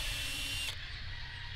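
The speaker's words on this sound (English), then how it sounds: "I'm going to pre-drill the holes" Power drill pre-drilling screw holes through wood pieces for a homemade carpenter bee trap, a steady close whirring drone that cuts off abruptly partway through, leaving quieter room noise.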